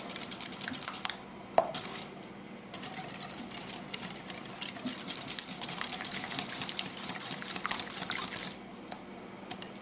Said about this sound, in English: we're just going to whisk that in